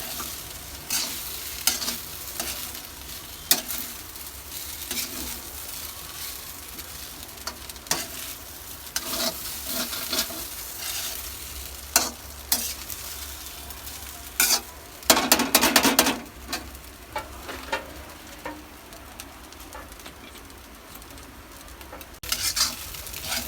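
Soybean and egg fried rice with ginger being stir-fried in a pan: steady sizzling with repeated scraping and clinking strokes of a utensil against the pan, close and prominent, no talk.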